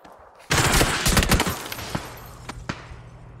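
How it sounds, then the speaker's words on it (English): Gunfire in PUBG as a player is shot off a rooftop: a loud, dense burst of rapid shots fading into a few isolated, sharper cracks with lingering reverberation. "You're shooting him off the roof."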